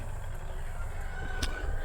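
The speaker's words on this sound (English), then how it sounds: "I think they hear me out here moving around, and they go to crowing." Roosters crow inside a chicken house, a brief crow rising over a dense background of clucking and low rumble, fairly loud and close.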